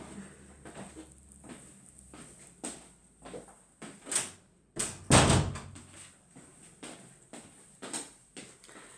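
Indoors, a door is pushed shut with a sharp, heavy thud near the middle, surrounded by several lighter knocks and clunks of handling, with quiet room tone between them and no talking.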